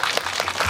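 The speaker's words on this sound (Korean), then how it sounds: "박수." Audience applause at a Korean film Q&A screening event in a cinema hall, a brief steady patter of many hands clapping at moderate distance.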